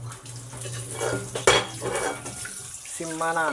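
Tap water runs steadily over a pot lid being washed in a home kitchen sink, with clinks of metal and dishes up close, while a person talks briefly over the splashing.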